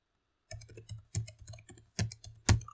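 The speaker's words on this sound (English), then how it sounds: "I'll type the IP address." A computer keyboard is typed on at close range after a brief silence, with a burst of individual key clicks in an uneven rhythm and a few louder strikes near the end.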